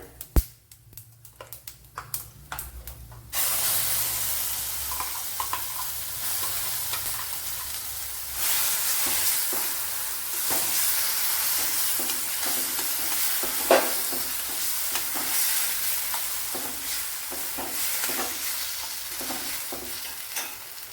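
Dried red chillies frying in hot oil in a Kerala-style kitchen pan, a steady loud sizzle with stirring clatter after a few quiet opening seconds, continuing unbroken to the end.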